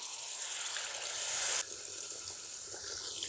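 Water used to rinse a mixer jar is poured into a simmering Kerala onion curry with tamarind water. A loud, steady gushing pour runs for about a second and a half, then drops to a softer hiss and sizzle, with no voices.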